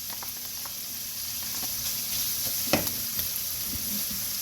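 About 1.5 tablespoons of minced garlic sizzles steadily in a pan during pasta preparation, a soft continuous hiss broken by a few light clicks and one sharper scrape.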